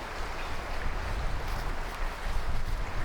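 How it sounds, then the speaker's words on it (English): Strong wind blows steadily at a campsite beside a radar station, a dense, roaring rush with low rumbling buffets across the microphone and no voices. "It is pretty windy though"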